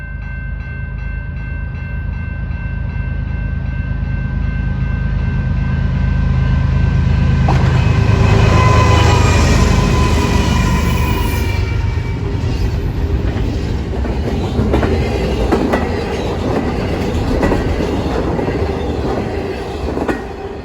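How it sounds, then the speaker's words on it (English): A southbound double-stack freight train passes through Grays Lake, Illinois, a loud sustained rumble of wheels and cars with a rising approach, squealing flanges, and steady rhythmic clatter continuing as the long train rolls by, with no talking. "another southbound stack train comes through Grays Lake,"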